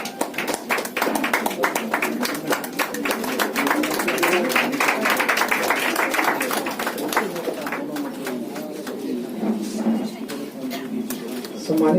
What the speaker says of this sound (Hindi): जोरदार तालियों के साथ यहाँ